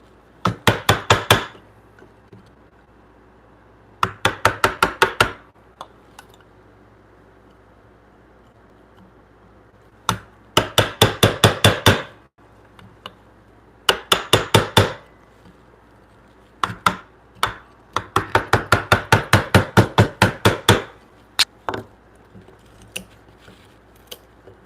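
In a woodshop, a hammer strikes a chisel in quick bursts of sharp, rapid knocks, several clusters of a dozen or so blows separated by short pauses, loud and close.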